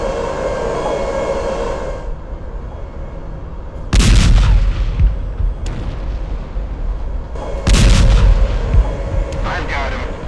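Tank guns fire in the ArmA Cold War Crisis video game: two loud, heavy booms about four seconds apart, each with a long rumbling tail, over a steady engine drone.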